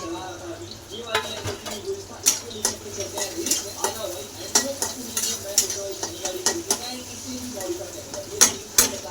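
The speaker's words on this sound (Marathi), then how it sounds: "कांदा तळत आला आता हिरव्या मिरच्या बघा मी चार पाच घेतले तर टाकून" Onions and four or five green chillies fry in a pan, giving a continuous sizzle under frequent clanking and scraping of a utensil against the pan in an uneven rhythm.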